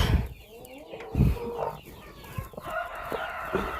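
A hen in a farmyard enclosure clucks up close in a series of short, uneven calls, with soft rustling and faint movement between the clucks.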